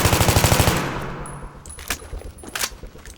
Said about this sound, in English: I'm gonna just gonna go up full auto here, aim down my sights and just fire